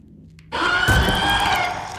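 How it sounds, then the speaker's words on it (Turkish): A monster smashing through a door in the horror video game R.E.P.O, a sudden loud splintering crash that rises abruptly and grinds on for over a second before fading. "Kapıyı kırdı."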